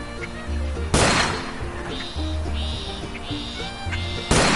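Gunshots in a PS4 hunting game: two loud, sharp shots about three seconds apart, the first followed by fluttering bird-like calls over ambient outdoor game sound.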